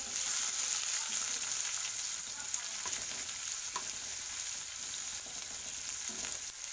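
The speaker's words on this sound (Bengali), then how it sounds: "দেখো এইবার আমি যেটা করব সেটা হচ্ছে পেঁয়াজ কুচিগুলো আমি দিয়ে দিলাম।" Chopped onions sizzle and fry in a pan with a steady, bright crackling hiss throughout, joined by a few soft stirring clunks and no voices.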